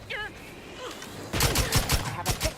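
Rapid bursts of gunfire erupt in a firefight in the video game The Outer Worlds 2, loud, close and clustered, following a quieter stretch of faint game ambience.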